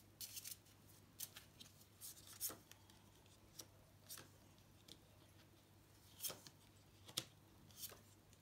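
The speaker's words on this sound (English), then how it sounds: "Let's shuffle the cards once more" Tarot cards are shuffled in quiet, irregular bursts of crisp riffling and rubbing, close up with pauses between.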